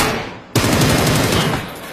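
Sudden loud rapid gunfire erupts after a brief lull, a sustained burst of shots continuing to the end.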